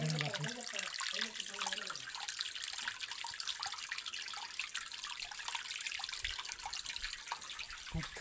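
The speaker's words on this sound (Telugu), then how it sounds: "ఇలా కొండలో బండల్లోనే జలపాతం పడుతుందండి" Continuous rushing water of a waterfall falling over rocks at Bhairavakona roars steadily throughout, loud and unbroken, with a faint voice briefly audible near the start.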